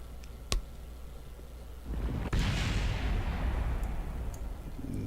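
A spacecraft service module breaking up on re-entry in Kerbal Space Program: a sharp crack, then a loud sustained rumbling roar that builds and holds to the end.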